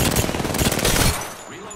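Dense automatic gunfire rattles close and loud in a shooter video game, rapid bursts running continuously before tapering off toward the end as a voice speaks underneath.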